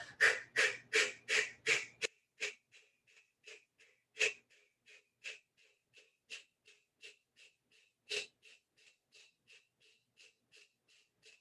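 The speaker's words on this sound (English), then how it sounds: "The exhale is like audible, it's forceful, it's intentional." Kapalbhati yoga breathing with forceful exhales through the mouth, a rhythmic series of sharp puffs. A quick, loud burst comes first, then a lighter, steady pulse about twice a second with occasional stronger blasts.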